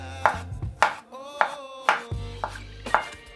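Knife chopping tomatoes finely on a board, six sharp evenly spaced chops close up, with a faint low hum underneath and no talk.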